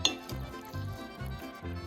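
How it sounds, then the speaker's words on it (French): Boiled potatoes gently mixed with beef broth in a bowl for a potato salad, soft rhythmic scraping and sloshing strokes repeating about every half second, close and moderately quiet. "Je mélange délicatement pour que les pommes de terre absorbent bien le bouillon de bœuf"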